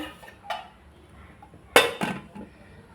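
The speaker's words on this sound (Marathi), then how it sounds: "आता कुकरचं झाकण करते मी बंद" A couple of sharp metallic clanks and a scrape as a pressure cooker lid is set and locked, in an otherwise quiet space.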